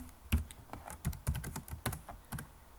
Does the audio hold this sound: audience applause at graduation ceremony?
no